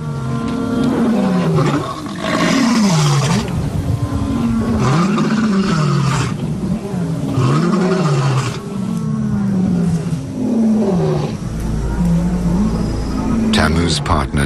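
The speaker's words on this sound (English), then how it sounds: "The roars of lions disrupt the intimacy of the pair." Lions roaring in the evening on the African savanna, a long series of deep rhythmic grunting roars, loud and close, repeating steadily for several seconds.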